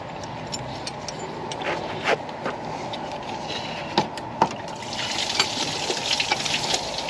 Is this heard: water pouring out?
yes